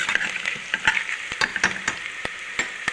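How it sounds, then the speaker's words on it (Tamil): Cinnamon, fennel, cumin and onion sizzling in hot oil, a steady crackling hiss broken by sharp pops and spatters, close and unaccompanied by voices. "தாளிக்கிறதுக்கு பட்டை, சோம்பு, சீரகம் போட்டாச்சு, வெங்காயம் போட்டாச்சு"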